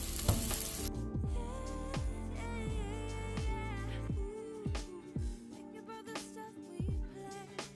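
Unsalted butter sizzles in a pan with onions and peppers on low heat, a soft, steady frying hiss with faint crackle and brief sweeping tones over it.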